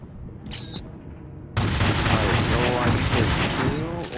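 Rapid automatic gunfire in the first-person shooter Shadowrun on Xbox 360 erupts as a dense continuous burst after a quieter start, with a player talking over the game sound.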